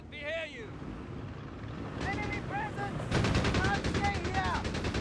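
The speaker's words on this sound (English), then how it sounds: "Half track there catching the Panzer Pioneer with its 50 cal there mounted" A half-track's mounted .50 cal machine gun firing in the World War II strategy game Company of Heroes 3, with bursts of rapid fire building to sustained rattling under a talking commentator and battle noise.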